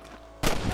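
A burst of gunfire in a Wild West shootout from Red Dead Redemption erupts suddenly after a quiet lull, loud, dense, and sustained through the end.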